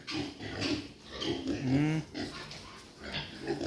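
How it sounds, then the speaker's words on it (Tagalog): Growing piglets grunt and squeal close by in a farm pen, a busy overlapping run of grunts with a brief squeal, with a faint voice in the background. "Yung ating biik dati oh. Medyo lumalaki na sila."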